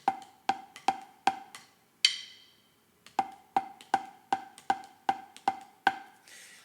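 A drummer's left hand plays a paradiddle exercise alone, evenly spaced sharp strokes in a steady pulse, breaking off for about a second near the middle with one heavier, ringing hit, then resuming the same even run of close, crisp hits.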